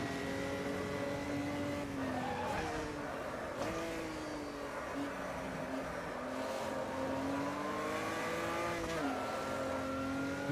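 A V8 race car engine in a racing video game holds a steady, loud drone with shifting pitch as it revs through corners, including a tight hairpin, with faint tyre squeal and no talking.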